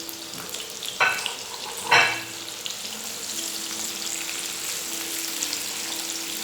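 Onions sizzle and crackle steadily in hot ghee for ghee rice, close and continuous, with a couple of brief stirring clatters near the start and no talking.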